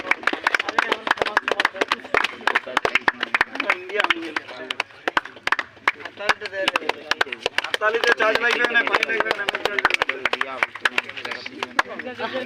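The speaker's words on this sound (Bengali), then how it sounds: "হাততালি হাততালি জোরে হাততালি" Loud, sustained applause for the winning team at a Super Kings versus Royal Riders cricket league prize ceremony, dense sharp claps throughout with a crowd voice and talking mixed in.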